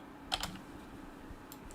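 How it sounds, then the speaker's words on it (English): Someone types on a computer keyboard, giving a few faint, scattered keystrokes over a quiet background hum. "Am I typing something wrong, Abdul?"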